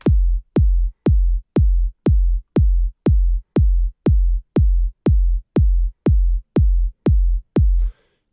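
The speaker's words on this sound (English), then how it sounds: "I'll show you a 4 to the floor basic rhythm." Four-on-the-floor kick drum pattern programmed in FL Studio: fourteen evenly spaced, punchy bass thumps, loud and dry, repeating at a steady tempo with nothing else playing.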